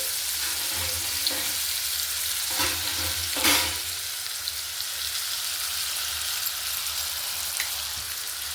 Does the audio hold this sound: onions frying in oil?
yes